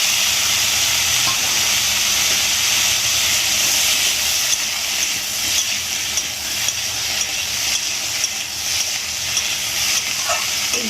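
A ginger, cumin and coriander paste hits a hot pan and fries with a loud, dense, continuous hissing sizzle, close by, with faint stirring scrapes near the end.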